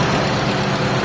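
A car engine idles steadily right after its alternator has been replaced, giving a loud, even, close hum with a constant low drone and no pauses.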